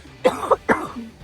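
Two quick, raspy coughs close by, the second following shortly after the first, each a harsh burst.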